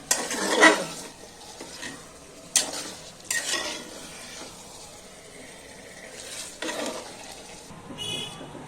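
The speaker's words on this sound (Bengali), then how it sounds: "মশলা দিয়ে মাংসটা দিয়ে নাড়াচাড়া দিয়ে এখন আমি কিছুটা নাড়াচাড়া করে" Beef coated in spices is stirred in a pot for a spicy beef curry, with several separate bursts of scraping and shuffling between quieter stretches of low sizzle.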